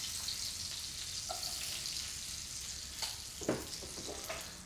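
Onions sizzling in a pan alongside pig's trotters, a steady bright frying hiss with occasional louder pops and a stir near the end, close and continuous with no talk.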